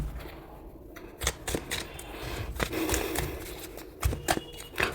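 Tarot cards riffle and slap in several quick bursts of shuffling, close and crisp over a faint background hum.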